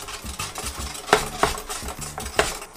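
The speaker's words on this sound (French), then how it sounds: "Faites à nouveau tourner la poêle pour bien mélanger." Sugar caramelizing for salted caramel is swirled around a hot pan: a soft continuous scraping hiss broken by three sharp metallic clinks spaced about half a second apart, close and moderately loud.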